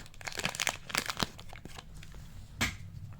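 Crinkly plastic of a Pokémon card booster pack wrapper being torn open, a quick burst of crackling rips and crumpling, close and fairly quiet, ending with one more sharp tear.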